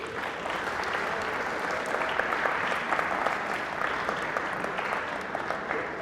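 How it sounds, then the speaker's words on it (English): An audience applauds after a student's presentation at PSU, a dense, steady wash of many hands clapping that holds at an even level throughout, with no talk over it. "Could we give him another round of applause?"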